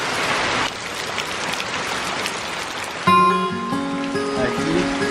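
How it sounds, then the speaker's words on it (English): Heavy rain pours steadily while sheltering during a dirt bike ride in Thailand, a dense hiss throughout, joined midway by louder tonal clatter and ringing from nearby objects. "hope that this rainstorm passes pretty quickly"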